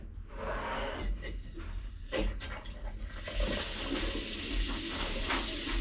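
Water flowing steadily from a newly installed tap during a DIY tap fitting, a continuous broadband hiss that grows fuller after a few seconds, with some faint breathing and handling noises close by.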